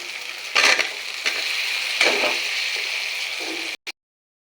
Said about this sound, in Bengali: এখন আমি মশলা আর একটু কষিয়ে নিয়ে আলু দিয়ে দিচ্ছি।